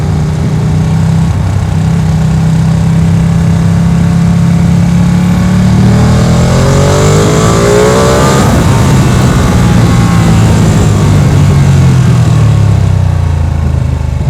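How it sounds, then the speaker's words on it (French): A Ducati Panigale V2 sport motorcycle engine revs loudly and close, with a deep, steady drone that climbs in pitch and falls back again while the bike pulls hard. "La sonorité qui vous éclate les oreilles, ça s'emballe, vous sentez le moteur vivre entre vos jambes"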